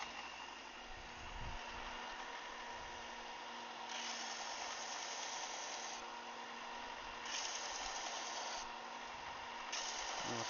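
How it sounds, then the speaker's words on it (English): Steady scratchy rubbing of light sanding on a wooden seating surface, continuous strokes with brief shifts in pitch, close by with a low rumble underneath. "some sanding, light sanding to do on the seating surface"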